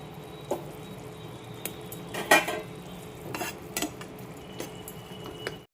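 Fish pieces are added to a spiced, watery curry in a pan, with sporadic metallic clinks and scrapes of a utensil against the cookware over a quiet, faint bubbling background and no talking.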